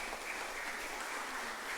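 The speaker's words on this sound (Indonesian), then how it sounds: "Kita beri tepuk tangan untuk panitia Paskah" A church congregation at an Easter Mass gives applause for the Easter committee, a continuous, even wash of many hands clapping, sustained for the whole stretch without talk.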